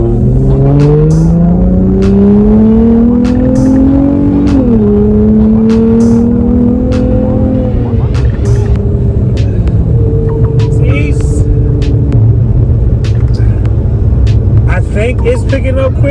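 A Dodge Challenger engine runs after a throttle body install, revving up and settling with rising and falling tones, steady and loud throughout, with talk over it.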